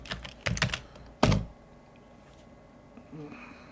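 A few quick keystrokes clatter on a computer keyboard, close and clear in two short bursts, followed by near silence.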